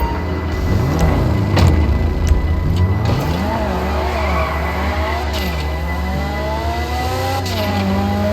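A car in Grand Theft Auto revs its engine with rising and falling pitch while tires squeal, loud and continuous, with faint background game sounds and a voice occasionally under it.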